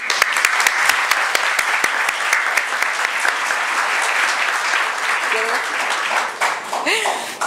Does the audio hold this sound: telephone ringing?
no